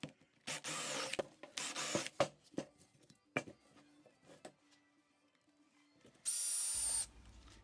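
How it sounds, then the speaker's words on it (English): A 1 3/8 inch Forstner bit in a drill boring a flat spot on a wooden bowl blank, two loud short whirring bursts with tool clatter between, then a quieter stretch and a final high whining burst near the end. "Then I'm going to take my 1 3/8 Forstner bit and make a level spot on top of the blank."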